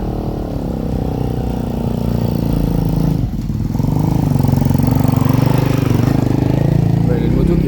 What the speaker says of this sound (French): Il y a une moto qui est faite pour ça.